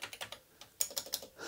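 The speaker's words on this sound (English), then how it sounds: "Let's test the whole keyboard before I reassemble it." Keys are pressed on a repaired Commodore 128 keyboard during testing, giving a quiet, close burst of quick clicking keystrokes in two short runs separated by a brief pause, with no speech.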